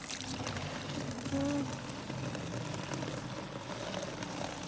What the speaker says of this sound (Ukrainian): Так, набираємо воду.